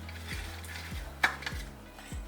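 Beaten eggs whisked with a pinch of salt in a bowl, a few rhythmic scraping strokes and light clinks of utensil against the bowl, soft and close with no talk.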